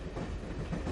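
A moving train rumbles along its rails as a steady, fairly faint low roar, briefly heard during a phone call.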